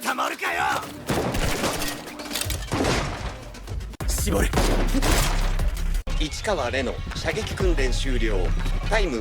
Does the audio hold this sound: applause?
no